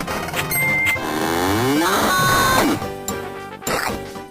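A cartoonish cow moos loudly in a video game, a long sliding, warbling call over game music as the cow is flung through the air to crush a princess.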